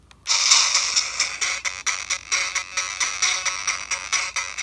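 Game Boy Color game music plays through InterAct HandyPak Color clip-on speakers as bright, tinny chiptune notes in a steady rhythmic pattern of repeated pulses, fairly loud and close, with no talking.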